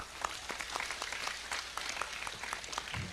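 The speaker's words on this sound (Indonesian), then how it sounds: "Tepuk tangan untuk panitia." A large crowd at a prayer-hall inauguration in Ngawi Regency, Indonesia, applauds with a dense, quiet stream of many individual hand claps that sounds distant and continues without a break.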